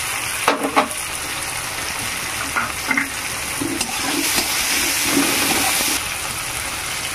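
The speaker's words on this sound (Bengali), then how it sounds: "টমেটোটা তাহলে তাড়াতাড়ি ভাজা হয়ে যাবে" Tomato with salt and chili frying in a pan, a steady close sizzle with a few clinks and stirring scrapes spaced through it, and no voices.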